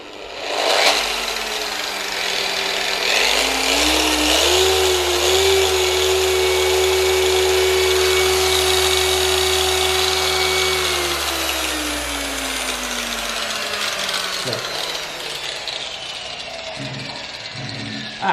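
An old Rupes Mark II polisher runs continuously and loudly close by, its motor whine climbing in pitch as it spins up, holding steady, then sliding lower as it slows toward the end.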